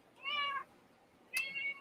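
A cat meows twice, faint and fairly close, with two short, separate tonal calls and quiet in between.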